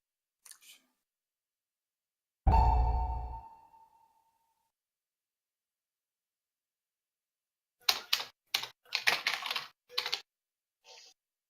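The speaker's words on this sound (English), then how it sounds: "Someone is smashing his keyboard." Someone smashing a computer keyboard during a World of Warcraft session: a heavy thump with a ringing tail early on, then after a pause a quick flurry of hard, clattering key strikes, close and loud.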